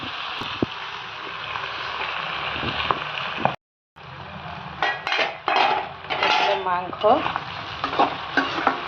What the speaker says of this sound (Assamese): অলপ এতিয়া এনেকৈ লৰাই মেলি গেছটো অলপ কমাই ঢাকি ৰাখিম